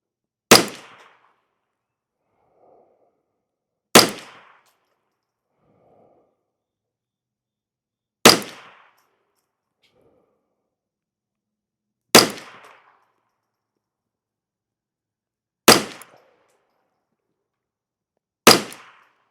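Six sharp rifle shots from CCI SV ammunition ring out one at a time at spaced, fairly regular intervals of about four seconds, each loud crack followed by a brief decay and near silence between.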